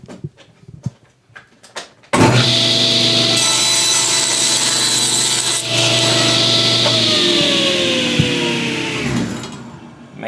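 A hand saw cuts through a wooden guitar neck blank, tapering it toward the thin end after a few light taps, then a long, loud, steady rasping stroke that continues for about eight seconds and trails off near the end.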